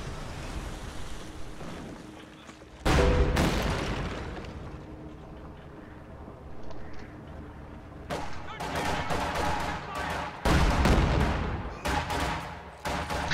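Incoming gunfire and artillery in a WWII strategy game, with Volksgrenadiers and Rakettenwerfer rocket launchers: a dense rumbling roar punctuated by several sharp, loud bursts of explosions and volleys, mixed with a constant background battle din.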